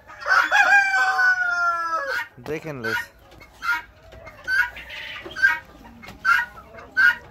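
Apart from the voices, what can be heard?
chickens clucking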